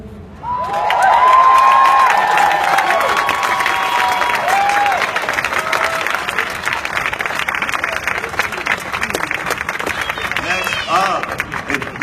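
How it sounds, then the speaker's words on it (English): Loud crowd applause and cheering erupt at a Black Lives Matter rally outside Springfield City Hall, with whistles and shouts early on, then sustained clapping that continues steadily to the end. "Please give a round of applause."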